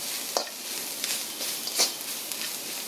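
Chopped onion and grated coconut frying in a pan, a steady close sizzle broken by a few scraping stirs and sharp spits, with no talking.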